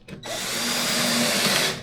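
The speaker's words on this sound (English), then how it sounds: "Drill that in, and now it should be lined up just about right" A power drill drives a screw into a twin XL daybed frame in one short, loud whirring burst close by, with no talking.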